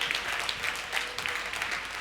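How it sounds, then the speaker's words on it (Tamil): Sustained applause from a congregation at a Sunday church service, many hands clapping together in a steady, even roar that holds at the same level throughout, heard from within the room. "கையத்தட்டு விசுவாசி."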